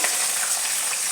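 Green chillies, cumin and mustard seeds frying in hot oil give a dense, steady, crackling sizzle, close and unbroken for a brief moment.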